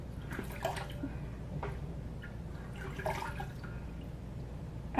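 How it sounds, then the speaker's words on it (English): Quiet, steady trickling water running continuously, with no voices. "And some trickling water sound effects for everybody."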